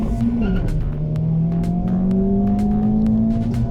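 A stock Honda Civic Type R launches hard from a standstill, its engine revving loudly and climbing steadily through the rev range, with tire noise and a few sharp clicks over a continuous close, powerful drone.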